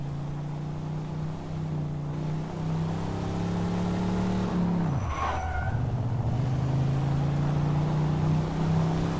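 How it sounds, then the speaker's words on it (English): A four-wheeler or motorbike drives by outside, a steady low engine drone that swells and dips sharply midway as it passes close, then settles back into a continuous hum. "Somebody outside right now driving a fucking four-wheeler or something, or a bike"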